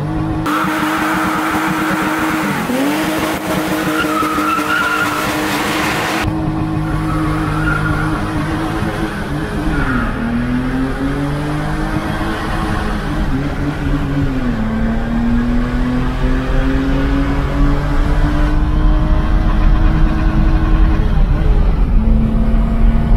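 BMW M2 E30 doing a burnout: loud, sustained tire squeal and screech with rising and falling engine revs, going on continuously and close by throughout.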